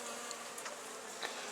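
Honeybees and drones in a top bar hive giving a steady faint buzz, an even drone with a few brief louder passes, no talk.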